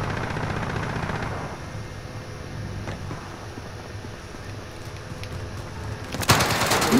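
Automatic gunfire in Call of Duty: Modern Warfare from a shooter on a roof, rapid bursts under a dense noisy battlefield wash, with a sharper loud report near the end.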